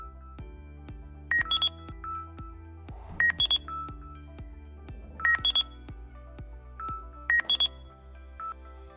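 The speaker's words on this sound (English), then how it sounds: "the blue indicator decreases the graph with the sound indicating the presence of void" A UIG 3D ground scanner sounds its void-detection alarm as repeated bursts of bright electronic beeping, four clusters spaced a couple of seconds apart over a steady low electronic hum, with no talking.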